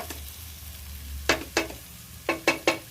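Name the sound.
breakfast mixture cooking in a pan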